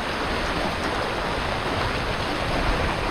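Floodwater after torrential rain in Konkan rushes loudly and continuously through a culvert, a dense, unbroken roar close by with no voices.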